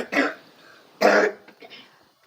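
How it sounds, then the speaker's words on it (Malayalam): A child coughs twice in close, sharp bursts, with a couple of faint rough throat sounds trailing after, in a quiet indoor room. "മാറിയില്ലേ നിന്റെ ചുമ?"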